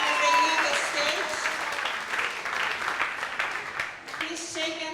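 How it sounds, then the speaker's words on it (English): Audience applause rises for departing school debaters from Kila Kila Secondary School and the Salvation Army Secondary School, mixed with voices and tonal sounds, thinning briefly before picking back up. "round of applause for them as they leave the stage."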